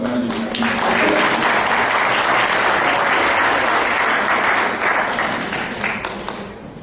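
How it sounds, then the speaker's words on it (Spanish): Loud, sustained audience applause for a speaker at a conference, many hands clapping together, swelling quickly and tapering off toward the end. "le brindamos reiterativamente un fuerte aplauso al doctor Wilber Bustamante."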